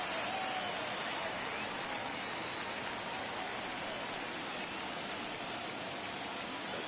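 A baseball video game crowd at Wrigley Field roars steadily, a dense, continuous wash of cheering that fills the whole stretch with little change in level.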